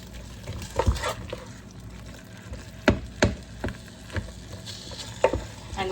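Lamb mince being stirred and mixed in a Ninja Speedi, with soft scraping and a few sharp spoon knocks against the pot over a faint sizzle, all close and fairly quiet.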